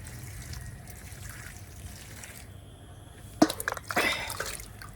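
Water poured onto potted plants, a soft trickle that gives way to brief louder splashes and gurgles near the end against a quiet background.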